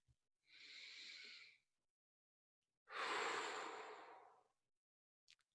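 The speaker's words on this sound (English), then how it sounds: "Take a deep breath." Two slow, deliberate breaths, a long breath in followed by a longer breath out, close and quiet with silence between them.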